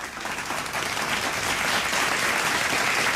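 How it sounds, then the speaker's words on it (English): A school debate audience claps in a steady, dense burst of applause that holds at full strength throughout, close and loud, with no talking over it. "Let's give them a round of applause"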